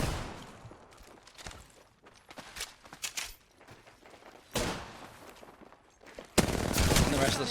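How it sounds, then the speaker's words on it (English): Gunfire in the video game Apex Legends, bursts of rapid shots and scattered single cracks with footsteps between them, ending in a loud, dense stretch of sustained firing. "The opponent shoots like 10 bullets."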